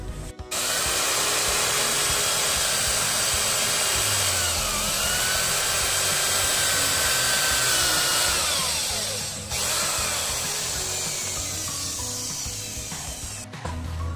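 A power drill grinds steadily through wood for over ten seconds, enlarging a hole, loud and close, its pitch dipping briefly as the bit bites and then recovering before stopping.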